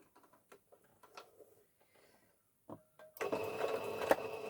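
A sewing machine stitches a teapot appliqué, running slowly. Quiet fabric handling and a few light taps come first, then the motor starts and holds a steady whirring hum.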